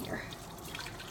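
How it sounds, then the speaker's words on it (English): An onion rinsed under running tap water for a cooking recipe, a faint, steady trickle and splash lasting barely over a second. "You also need to wash your onion."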